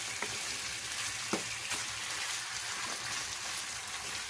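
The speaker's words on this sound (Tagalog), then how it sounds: "Igisa lang natin muna maigi yan" Chicken afritada sautéing in a pan with coconut milk, a steady close sizzle with faint stirring scrapes throughout and no talk.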